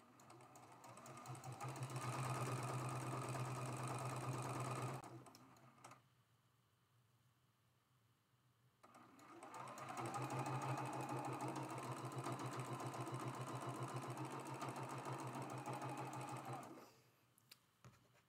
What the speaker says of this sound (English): We're going to line that up and just sew it from edge to edge